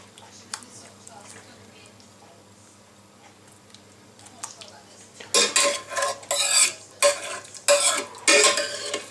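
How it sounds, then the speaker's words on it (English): A spoon spreads pizza sauce over homemade beer pizza dough, making a run of wet scraping and smearing strokes in rhythmic bursts that grow louder partway through, following quieter light clinks and kitchen handling. "spread it around with the base of the spoon so you don't squish it about too much"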